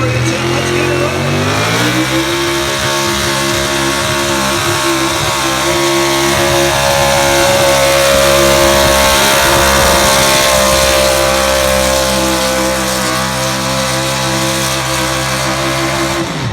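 A pulling truck revs hard at the Saratoga County Fair 2019 truck pull, the engine climbing in pitch after a couple of seconds and then holding a loud, sustained roar to the end.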